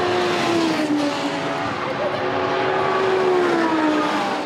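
Race cars lapping the Poznań circuit during a two-hour endurance race, a steady loud engine drone with a shifting pitch that persists throughout, no one speaking.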